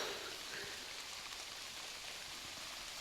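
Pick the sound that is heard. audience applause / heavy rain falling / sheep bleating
heavy rain falling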